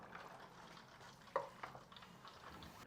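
Dungeness crab deep-frying in hot oil gives a steady soft crackling sizzle, with a couple of brief sharper pops partway through.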